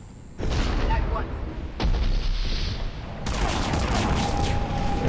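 Gunfire hitting the player's ship in a space combat game, several heavy rattling barrages starting abruptly and repeating with loud booms and mechanical clatter, a voice talking in between.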